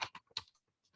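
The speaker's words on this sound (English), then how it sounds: "Let's say we're typing so many lengthy texts." Quiet, quick keystrokes on a computer keyboard, a short irregular burst of taps that trails off into sparse faint clicks.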